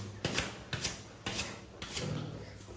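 A brush scrubs a dirty surface in four close, rasping strokes, each a harsh broadband scrape, fairly loud, evenly spaced and heard alone.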